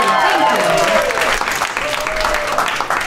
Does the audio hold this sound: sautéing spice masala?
no